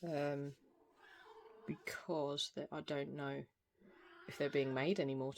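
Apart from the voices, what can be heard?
cat meowing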